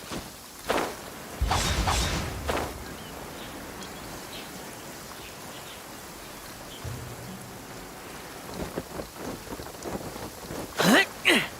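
Steady rain hisses throughout a stormy scene in the video game Genshin Impact, broken by several loud rumbling thunder cracks, one early and a burst near the end, with no talk.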